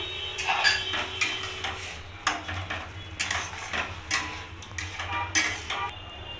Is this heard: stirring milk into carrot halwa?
yes